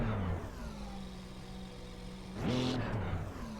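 A car engine in the racing game GT2 drones steadily at low revs, then jumps in a sharp rev surge with a rising whine and settles back, close and continuous, with no talking.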